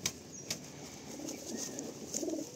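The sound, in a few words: pigeon flapping its wings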